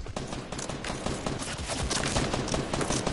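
Rapid bursts of gunfire from an opposing team in a video game, a steady rattling volley of shots that stays loud and dense for a few seconds.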